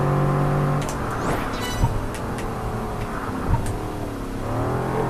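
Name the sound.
car engine revving in video game Project Gotham Racing 4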